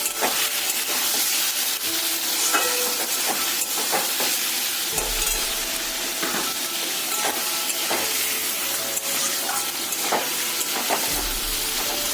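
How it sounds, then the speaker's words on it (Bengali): Prawns frying in hot oil in a pan for khichdi, a steady dense sizzle and hiss throughout with occasional clinks and stirring scrapes, close and continuous with no talking. "এই তেলেই আমি এক্ষুনি চিংড়ি মাছ ভাজবো"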